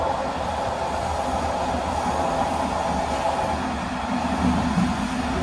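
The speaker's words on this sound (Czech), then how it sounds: "Teď jdu vlakem do Nymburka." Steady rumble and rattle of a passenger train riding toward Nymburk, a constant loud interior drone with no breaks and no talking.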